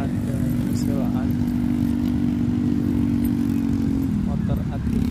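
Motorcycle engines rumble steadily and loudly on the beach at Parangtritis near Yogyakarta, a continuous close idle with a slight pitch drop near the end and faint voices mixed in.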